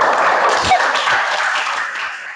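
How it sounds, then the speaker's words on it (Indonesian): Classroom applause from students in a religious-studies lesson, a dense, steady patter of many hands clapping for about two seconds, fairly loud and close, with a faint voice mixed in. "tepuk tangan buat Ruby"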